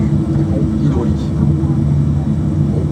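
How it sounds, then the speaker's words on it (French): A steady low mechanical hum and whine from the hydraulic PTU pumps in an Airbus A320 flight simulator, continuous and fairly loud, with a faint voice over it. "C'est le bruit des pompes de la PTU"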